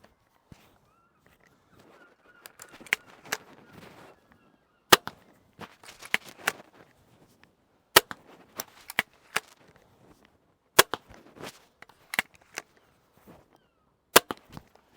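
Air rifle bolts fired from a PD5 crossbow pistol, sharp snapping releases spaced a second or two apart, with faint handling noise and clicks between shots.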